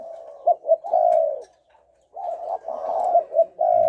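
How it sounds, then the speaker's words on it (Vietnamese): A Thai dove cooing up close, repeating short, hollow, rhythmic coos in two phrases separated by a brief pause, loud and clear with no other voices. "anh em nào thích cái dòng chim Thái này, tốc độ rất nhanh."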